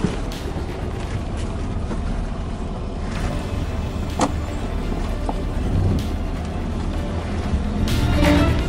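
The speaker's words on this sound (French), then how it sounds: "je rallume le moteur" Sailboat's engine running steadily out on the Indian Ocean, a continuous low rumble mixed with wind buffeting the microphone and water noise, with no one speaking.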